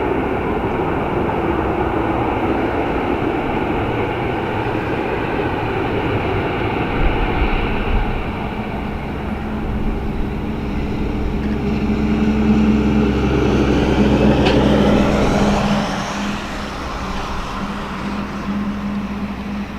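An airliner landing at Dublin Airport roars loudly as reverse thrust builds, a broad sustained rumble that swells toward the middle and then eases off as the aircraft slows.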